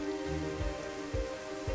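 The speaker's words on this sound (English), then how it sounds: "now I might as well just catch the rain on my canvas and see what happens" Rain falls outdoors at night beside Battersea Power Station, a soft, steady patter against a low constant hum, fairly faint and with no voices.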